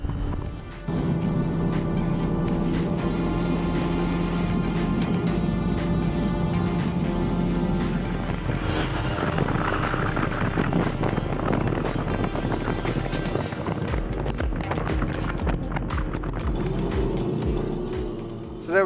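Yamaha RD250 YPVS and Suzuki GT200 X5 two-stroke motorcycles ridden on the A4069 mountain road towards Llandovery, a steady loud engine drone with rising revs and gear changes, mixed with wind rush past the microphone.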